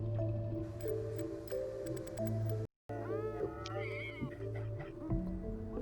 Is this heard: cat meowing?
yes